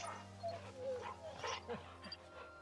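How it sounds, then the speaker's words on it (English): Torgal, a dog in the game Final Fantasy XVI, whimpers and whines softly in short high-pitched bursts while being petted, over a steady low game hum. "Pet my dog for the stream."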